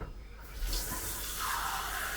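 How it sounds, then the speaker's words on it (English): Warm water running from a tap into a pot of porridge oats, a steady rushing stream that starts abruptly after a brief quiet moment and continues loud and close, with no talking. "in fact I'm going to add some warm water because this will heat it up quicker"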